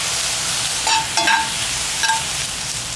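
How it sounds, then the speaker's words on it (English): A loud, steady sizzle of liquid hitting a hot pan, with a few scraping stirs on top. "Oh, listen to that. Sizzle, baby."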